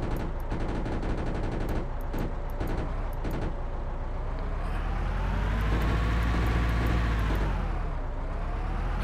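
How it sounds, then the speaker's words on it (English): A tank's machine gun in the video game Arms Trade Tycoon Tanks rattles off several short, sharp bursts over a rumbling engine, then the firing stops and the engine drone rises and falls alone. "The machine gun is quite satisfying"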